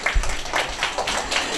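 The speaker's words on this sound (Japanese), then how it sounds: "大きな拍手をお願いいたします" Applause from a talk-show audience welcoming two Gamba Osaka football players on stage, a steady moderately loud patter of clapping hands lasting throughout.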